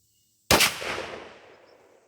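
A single close, loud blast from a Mossberg 835 12-gauge pump shotgun with a Kicks .680 choke, firing Remington Express 2-3/4 inch 4 buck, with a sharp crack that rings out and decays over about a second and a half.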